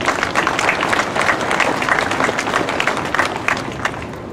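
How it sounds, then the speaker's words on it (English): A crowd applauds at a Vietnam War Veterans Day ceremony, a loud and continuous mass of clapping that holds steady from start to finish with no speech over it. "Let's give them a round of applause."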